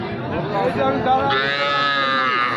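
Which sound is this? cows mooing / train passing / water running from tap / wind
cows mooing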